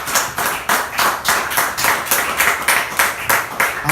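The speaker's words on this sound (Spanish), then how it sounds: "Denle un aplauso a Cristo porque esto es de Dios" Rhythmic, steady clapping from a church congregation, loud and close with evenly spaced claps throughout.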